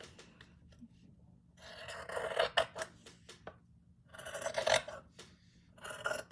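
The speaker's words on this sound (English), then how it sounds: "Fabric scissors. Let's trim that." Fabric scissors trimming fabric for a handmade journal, producing bursts of close, crisp snipping and rasping cuts separated by brief pauses.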